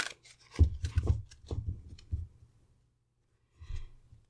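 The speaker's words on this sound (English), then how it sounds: "Okay, let's shuffle here." Hero's Journey oracle cards are shuffled by hand in a few quick papery riffling bursts, close and crisp, then a pause before one last brief shuffle.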